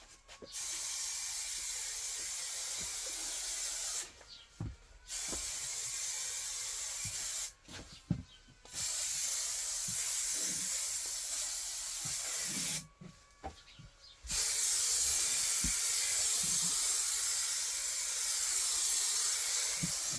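Adhesive or paint is sprayed from a can in a couple of coats: long, steady hissing bursts of several seconds each, separated by short silent gaps, loud and close, with no voices.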